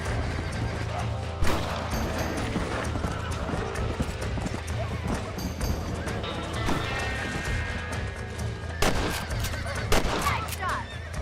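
Gunshots ring out in the Red Dead Redemption video game while hunting coyotes, sharp loud cracks around the middle and near the end over horse hooves, whinnies and music, with voices speaking.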